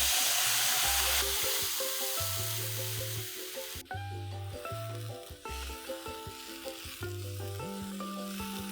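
Hot oil sizzles loudly as a tempering of curry leaves, cloves and asafoetida crackles in the pan. Steady music plays over it while the hiss gradually softens.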